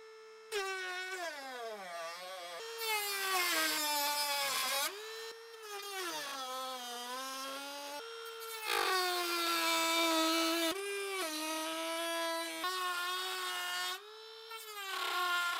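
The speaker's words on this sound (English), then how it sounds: "You just go around the whole headlight with the Dremel, make sure it's completely off." A Dremel rotary tool cuts around a Volvo V70 or XC70 headlight, its whine rising and falling in pitch as the load changes, running close and steady with short pauses between passes.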